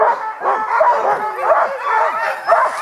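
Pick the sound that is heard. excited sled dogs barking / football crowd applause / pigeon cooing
excited sled dogs barking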